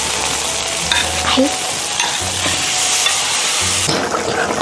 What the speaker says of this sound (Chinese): 豆瓣炒香过后，加点水油，再把这鱼倒下去煮一下